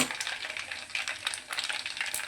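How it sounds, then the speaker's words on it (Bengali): Mustard seeds spluttering and popping in hot cooking oil on a gas stove, a dense, steady crackle of small sharp pops heard up close with no talking. "তেল ফুটতে শুরু করেছে, সর্ষেও ফুটতে শুরু করেছে।"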